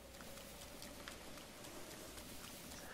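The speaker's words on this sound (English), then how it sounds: "Man, it's hard to see. Will this rain ever go away?" Steady rain falls in The Legend of Zelda: Breath of the Wild on Eventide Island, an even, continuous hiss of drops with no talking.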